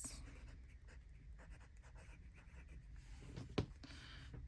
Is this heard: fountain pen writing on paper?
yes